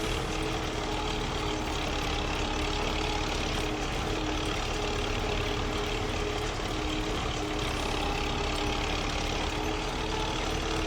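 A tractor engine in the video game Farming Simulator 25, a steady, loud, low droning hum running unchanged throughout with no talk.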